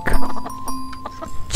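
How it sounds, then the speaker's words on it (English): A hen clucks loudly in a rapid run of short, close calls on a farm, with no talking over it. "Hen makes the sound cluck, cluck."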